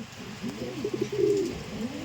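Pet pigeons coo close by, a few low, throaty rolling calls with one louder, sustained coo near the middle, with no voices over them.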